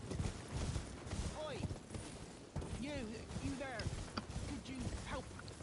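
A horse gallops with a quick, rhythmic clip-clop of hooves in the video game Elden Ring, heard steadily beneath someone talking.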